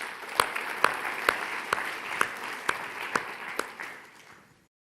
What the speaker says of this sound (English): let's clap for ourselves once again.